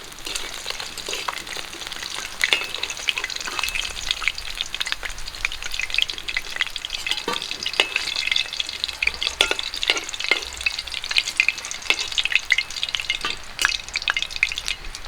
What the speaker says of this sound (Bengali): বাকি মাছগুলো আমি একই রকম করে ভেজে নেব